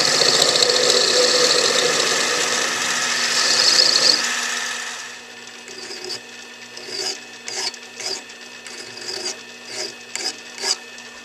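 A metal lathe turns down a piece of scrap stock, cutting to thread length. A steady loud machining whir fills the first four seconds, then eases into quieter, intermittent bursts of cutting noise.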